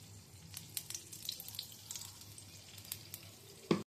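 Hot white refined oil sizzles in a wok just before crushed garlic goes in, a faint steady crackle with small pops and a louder clatter near the end, no talking.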